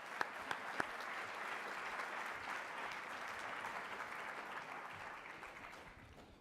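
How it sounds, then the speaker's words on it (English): Audience applause welcoming guests onto a panel at a talk event, a steady, dense wash of clapping from a seated crowd that carries on evenly for over six seconds with no talking. "So a big round of applause for Steve and our distinguished guests."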